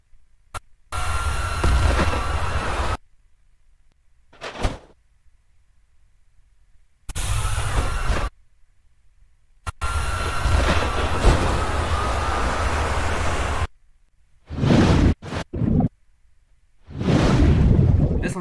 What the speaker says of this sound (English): now for the funnels crashing